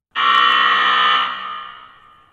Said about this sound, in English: That was the halftime buzzer